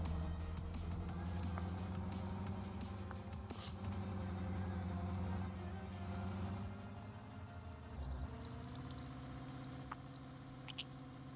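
Vehicle engine in the Roblox game Lumber INC revving hard and holding at a steady high pitch as if pinned against a rev limiter, dropping briefly near the end before climbing again; fairly quiet and continuous.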